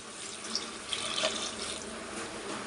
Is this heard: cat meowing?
no